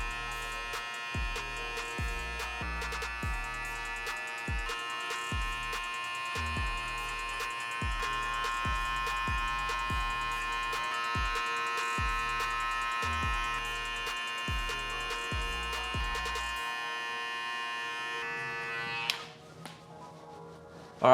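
Electric hair clippers fitted with a 1 guard, lever set near three-quarters, cut a skin fade in a barbershop, giving a steady close buzz with rhythmic low thumps for about eighteen seconds before stopping.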